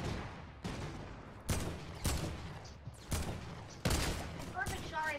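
Repeated gunfire in Fortnite, about five sharp shots spaced roughly a second apart over steady game noise, with brief chirpy effects near the end.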